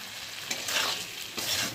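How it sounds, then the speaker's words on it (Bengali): Masala spices frying in a pan, a steady close sizzle with soft scraping bursts as they are stirred, no talking. "চলো আর একটু ভাজাটা হোক মশলাটা"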